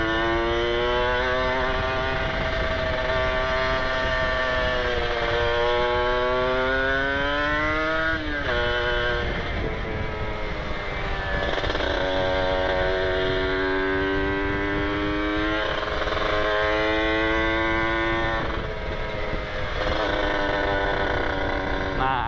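A Ninja RR motorcycle engine drones steadily with rising and falling revs around 7000 RPM, heard from close by as it rides along continuously.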